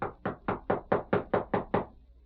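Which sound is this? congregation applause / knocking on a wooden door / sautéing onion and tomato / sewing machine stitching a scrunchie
knocking on a wooden door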